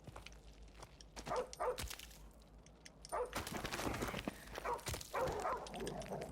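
A dog in Call of Duty Modern Warfare Remastered, in a gunfight at an amusement park, barks in quick clusters, with loud bursts near the start and again later over busy game ambience.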